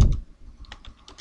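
Quick, close clicks of computer keyboard keys being typed in short bursts, with a louder thump at the start.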